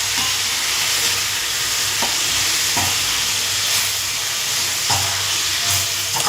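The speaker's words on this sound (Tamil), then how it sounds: "முருங்கைக்காய் பொரியலுக்காக கட் பண்ணி எல்லாம் தாளிச்சிருக்கேன்" Drumstick (murungaikkai) poriyal being tempered and stir-fried, a loud constant sizzle close by with a few soft knocks of the spoon against the pan.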